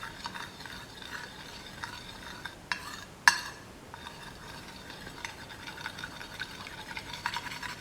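Egg whites and yolks, seasoned with a pinch of salt, are mixed in a bowl, giving quiet rhythmic scraping and stirring with a few sharp utensil clinks against the bowl, close and otherwise still.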